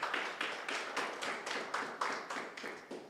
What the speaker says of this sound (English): let's have a round of applause for you